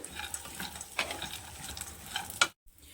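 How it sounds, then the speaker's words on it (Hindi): Raisins and other ingredients for gond laddoos roast in a pan over a low flame, making a faint sizzle with soft stirring scrapes and a few light clicks before a brief silence. "इन सारी चीज़ों को 2 से 3 मिनट फिर से भून लेते हैं"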